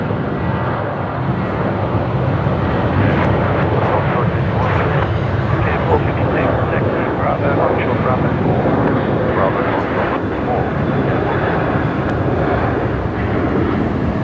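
Virgin Australia airliner departing runway 01 right at Brisbane Airport at night, a steady, continuous broadband engine roar held at constant loudness throughout, with some wind buffeting and a voice talking underneath.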